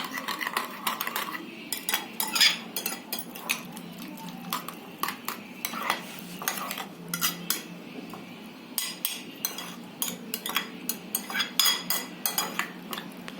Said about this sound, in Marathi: थोडं फेटून घेते मी